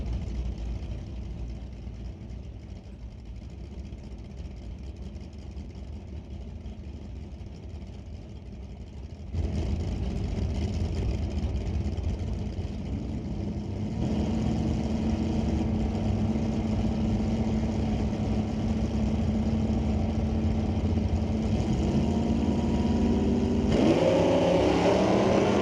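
Drag racing cars at an NHRA Canadian Sportsnationals divisional qualifier, a 1988 Cutlass Supreme and a 1969 Camaro, idle with a loud rumbling drone that steps up in intensity as engines rev, heard continuously without talk.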